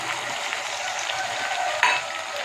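Tomato with a ground ginger and garlic paste sautéing in a pan for a mixed vegetable gravy makes a close, continuous sizzling hiss, broken by one sharp clink of a utensil.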